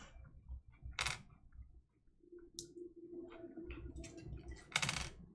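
A person imitates bird calls with their voice, making short chirps, clucks and tonal squawks separated by quiet gaps, with faint clicks and room noise between them.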